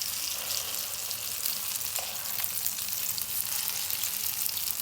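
Chicken daal shami kebabs frying in oil in a pan, a constant soft sizzle with light crackle and occasional faint pops, moderately quiet and uninterrupted, no speech.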